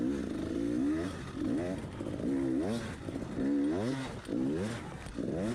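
A dirt bike in a hare scramble race at Keithsburg, Illinois, revs hard and unevenly, its engine pitch surging and dropping in quick repeated bursts as it powers over rough, bumpy ground, loud and close throughout.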